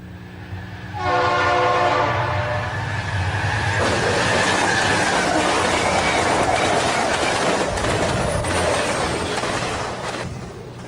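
Santa Fe train in the Garry's Mod video game: a loud, sustained multi-tone horn blast, then the heavy rumble and clatter of railcars rolling past, fading slightly at the end.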